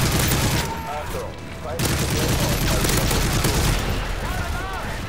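Sentry turret firing in Modern Warfare 3 Survival mode, a dense continuous burst of automatic gunfire under a steady wash of game noise, with voices talking over it.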